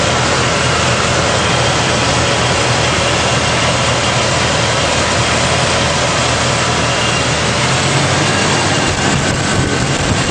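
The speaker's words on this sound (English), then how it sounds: "I just started the Jeep up just to let you hear it run." A Jeep straight-six engine idles steadily with a loud, constant rumble throughout, fed by a fuel system with one fuel device per cylinder, and no talking is heard.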